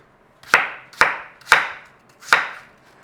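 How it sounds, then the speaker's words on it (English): A knife chops through apples on a cutting board, cubing them, in four sharp, evenly spaced thuds, each with a short fading tail, close and clear with no talking. "Cube up your apples and chuck them in that pan."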